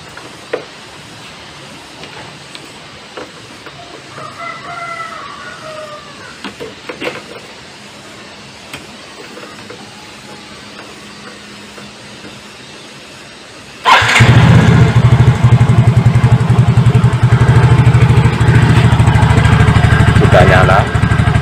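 A Yamaha Mio J scooter that stalls and dies is started after someone speaks. Its engine catches abruptly and then idles loudly and steadily with a rapid, even putter close by.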